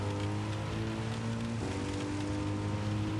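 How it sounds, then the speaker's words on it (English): Steady, dense rain hisses on the Red Bull Ring in Gran Turismo 7, with a low engine drone from a Mercedes SLS AMG racing car underneath, constant and loud throughout with no talking. "you can see the actual rain hasn't got to the required depth."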